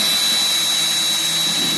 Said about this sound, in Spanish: agarramos el taladro y procedemos a hacer el agujero